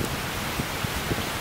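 Steady rain hiss with gusting wind during Hurricane Irma, a continuous broadband wash with faint scattered drops, even and unbroken throughout.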